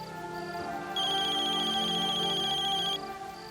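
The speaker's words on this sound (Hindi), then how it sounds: "देवयानी का फोन है।" A telephone ringtone signals an incoming call in a Hindi family drama scene. It repeats as a loud electronic melody that swells into a fuller two-second burst. No one speaks over it.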